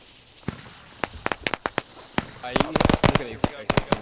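Explosions and rapid crackling bursts in the video game Squad, a series of sharp pops building into a dense cluster of bangs, moderately loud and close.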